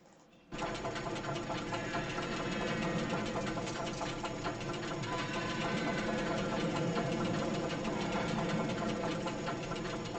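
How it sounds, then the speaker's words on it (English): A roller coaster ride in the video game Roller Coaster Tycoon 3, heard as a steady, loud mechanical rattling and clattering of the track chain and cars that starts abruptly and runs continuously throughout. "Shall we ride it? Let's ride it."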